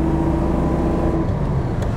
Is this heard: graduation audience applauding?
no